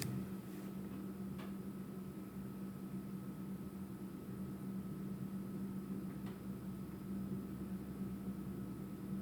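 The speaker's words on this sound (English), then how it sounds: "So there is a hum." Steady low background hum filling a city apartment in Canberra, constant and even throughout with faint occasional ticks, and no voices.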